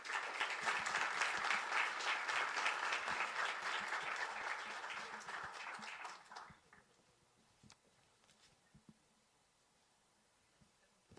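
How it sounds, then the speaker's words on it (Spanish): An audience at a technology conference breaks into loud, dense applause that holds for several seconds, then fades to a few scattered claps and quiet room tone. "Por favor, un fuerte aplauso para Alejandra."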